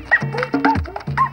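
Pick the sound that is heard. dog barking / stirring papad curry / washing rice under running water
dog barking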